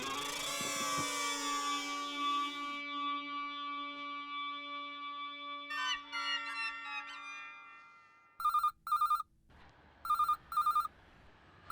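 A telephone rings in a home, with repeated electronic bursts of ringing in short pairs after some tonal music fades out, clear and alone with no voices.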